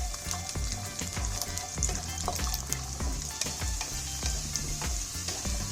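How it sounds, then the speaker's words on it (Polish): Whole garlic cloves fry in hot oil, giving a steady, close sizzle with small pops and bubbling, occasionally stirred. "Już olej dobrze się rozgrzał, wrzucam cały czosnek i smażę tylko 2 minutki maksymalnie"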